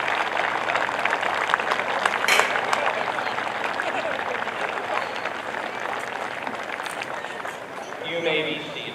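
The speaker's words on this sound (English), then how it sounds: "Seniors, please stand with me and applaud our parents and families" Graduating seniors at a high school graduation ceremony applaud their parents and families, sustained broad clapping filling a large venue at steady volume, easing slightly near the end.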